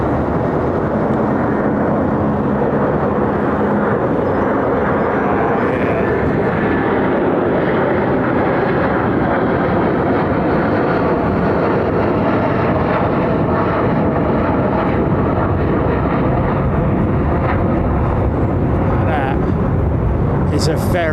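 An old Airbus A330 CEO's CF6 jet engine roars loudly and continuously at London Heathrow Airport, a broad, steady rumble with a harsh rushing edge that never lets up.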